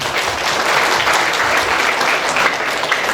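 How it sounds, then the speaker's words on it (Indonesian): A crowd at an Islamic religious gathering, the Khotmil Attauhid, claps loudly and continuously, a dense wash of many hands filling the whole stretch without any voices. "Tepuk tangan semuanya"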